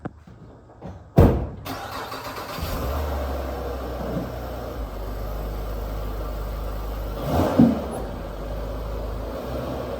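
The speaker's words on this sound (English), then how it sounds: "I'm just letting the engine warm up a little bit so the oil can come out freely" A car engine cranks and catches at about one second in cold weather, then settles into a steady low idle while warming up, with a brief clunk or hiss later on.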